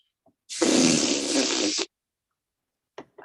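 A voice imitates a fart blown against a cheek, one loud, close, wet raspberry lasting over a second, then silence and a faint breath.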